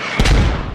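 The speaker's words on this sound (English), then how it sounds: "Those mortar rounds actually where Doobie was just at" A mortar round explodes in the military shooter game Squad, a single sharp, loud boom followed by a short rumbling tail.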